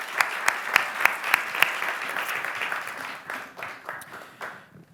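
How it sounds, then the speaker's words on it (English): Audience applause for the panelists at a forum on trade wars and global governance in Bucharest: several crisp, loud claps near the front over a broader crowd patter that thins and fades toward the end. "a warm round of applause for our panelists"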